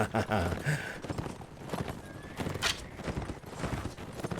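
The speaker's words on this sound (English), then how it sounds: "Off like a herd of horses." A herd of horses gallops in a medieval combat game, Mount & Blade: Warband, with dense, rapid hoofbeats and clatter continuous throughout, close and loud, with a whinny mixed in amid battle noise.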